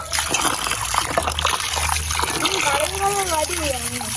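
Water pours and trickles steadily as produce from a home garden in Jaffna is washed, a continuous close splashing stream with voices talking over it.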